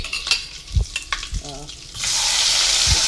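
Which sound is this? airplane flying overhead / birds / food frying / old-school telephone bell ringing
food frying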